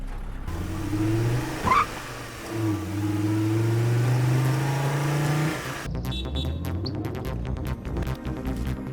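A car's engine idles, then revs and pulls away in a steady mid-pitched drone, loud and close, followed by clattering, busier sounds as it moves off; no talk.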